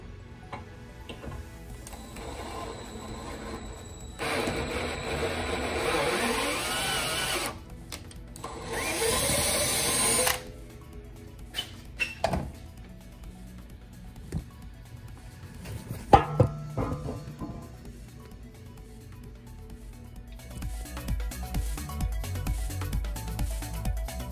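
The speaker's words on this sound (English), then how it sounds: "tapping aluminum is probably one of my favorite things to do" A power tool taps threads into aluminum during a mini jet boat build, whirring in bursts with ticks and clicks between them, close by and moderately loud.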